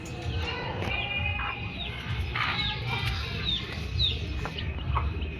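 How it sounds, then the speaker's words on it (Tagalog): Chickens clucking and calling in a busy outdoor yard, several birds at once with steady background noise and faint voices. "Yung mga manok natin"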